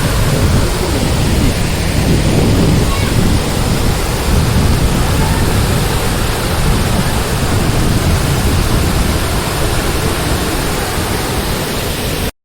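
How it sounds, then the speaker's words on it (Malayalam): At Kanthanpara waterfall, a river foams down over rocks into a second fall, a dense, unbroken roar of rushing water that stays loud and close throughout. "ഇവിടെ രണ്ടാമതൊരു വെള്ളച്ചാട്ടം കൂടി പാറകളിൽ തട്ടിത്തഴുകി മുകളിൽ നിന്നും പതഞ്ഞൊഴുകി വരുന്ന പുഴ ഇവിടെ താഴേക്ക് പതിക്കുന്ന"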